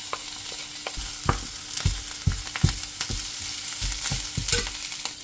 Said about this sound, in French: je vais mettre l'huile de tournesol, un petit peu, puis je fais revenir l'oignon et l'ail ensemble